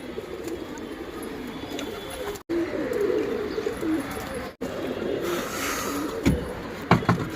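Pigeons cooing and calling on an open rooftop, soft repeated coos under steady outdoor noise, with a couple of sharper sounds near the end.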